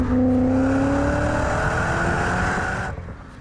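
Volkswagen 4.0-liter W8 engine making about 270 horsepower revving with a smooth, steady whirring drone that climbs gently in pitch, loud and close, then cuts off near the end.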